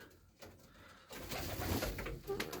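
Pigeons cooing softly in a loft, low burbling calls over rustling and faint background noise, growing busier after a quiet start.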